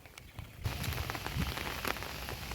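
Monsoon rain pours down in Lonavala beside Tata Lake, a dense, steady hiss of drops on surfaces that swells in after a quiet half second and then holds loud and even.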